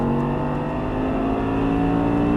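Audi R8 accelerating hard around a race track, a loud, steady engine roar with strong low harmonics that holds throughout, close and continuous with no talk.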